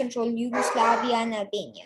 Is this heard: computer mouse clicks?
no